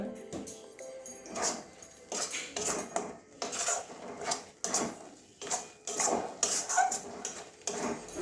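Potol curry being sautéed and stirred in a pan, with repeated clattering scrapes and knocks of a spoon against the pan in an uneven rhythm, close and fairly loud, no talking.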